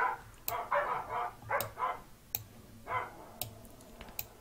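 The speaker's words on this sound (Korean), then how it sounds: "강아지들이 짖고 있습니다." Several dogs bark in short, rhythmic bursts at a moderate distance, with sharp clicks scattered between the barks and no voices.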